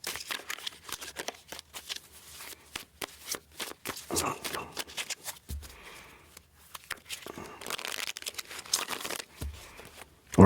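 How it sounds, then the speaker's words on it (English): A deck of cards being shuffled in repeated crisp riffles and flutters, close up, with soft rustling in between and no talking. "I'll grab the next one and shuffle that up a little bit"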